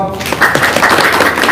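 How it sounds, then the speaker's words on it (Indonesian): An audience claps in a dense, steady patter of applause that continues throughout, close and fairly loud. "Tepuk tangan dong."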